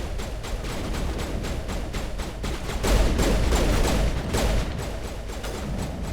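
Rapid gunfire from Mass Effect 1 rattles steadily throughout, a dense stream of close, loud shots with a heavier burst in the middle and no talking over it.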